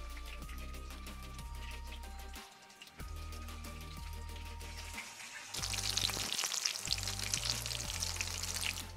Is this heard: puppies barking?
no